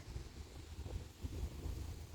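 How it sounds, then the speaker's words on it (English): Steady wind buffeting a microphone outdoors, a low rumbling roar with gusty swells and no voices. "It's a windy, windy day."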